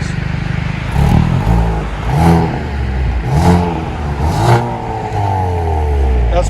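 A 2020 Hyundai Veloster N with dual exhaust, before resonator delete, revs repeatedly from idle, loud and close, with four or five rising and falling swells over a steady rumble.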